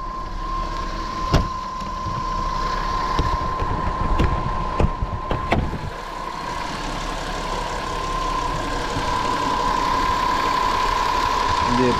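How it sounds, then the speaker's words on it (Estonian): A warm Audi five-cylinder engine idles at a close distance, giving a steady, even hum with a constant tone and a few sharp clicks and knocks in the first half. "kuidas praegu sooja mootoriga meie viiskassilga käitub"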